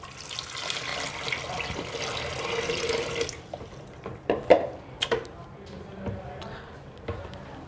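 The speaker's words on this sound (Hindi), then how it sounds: "अब आपने जो पानी गर्म किया है और उसके अंदर जो 3 पाउचेस डाले हैं, वो पानी इसके अंदर डाल दीजिएगा।" Hot water mixed with cleaning pouches is poured into a Kangen water machine, giving a steady splashing flow that stops after about three seconds, followed by scattered drips, knocks and handling clatter.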